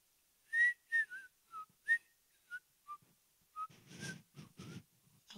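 A person whistles a tune in short, separate bright notes, then breathy, noisy whistling follows toward the end. The sound is close and clear, with no talking.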